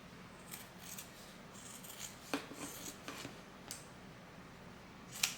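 Scissors snip away excess fabric while a crossbody bag's zipper pocket is sewn, giving several short, quiet cutting and rubbing sounds close to the microphone with a sharper snip near the end.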